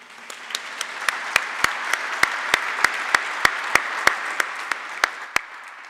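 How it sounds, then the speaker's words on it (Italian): An audience at a conference on Latin and new media applauds, a steady crowd clapping with one close pair of hands striking loud, evenly spaced claps above the rest. "Grazie Luke, che sentirai questo nostro applauso"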